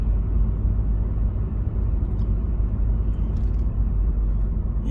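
A car rolls slowly along a road near Red Rock at about 15 miles an hour, giving a steady, close, low rumble of engine and tyres that never lets up and has no voices over it.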